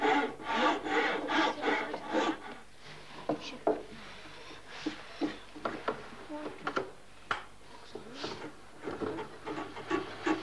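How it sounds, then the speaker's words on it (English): A rasp filing down a bicycle brake block in a workshop, with repeated rough scraping strokes in an uneven rhythm, close and moderately loud. "Use the rasp to file the brake block down"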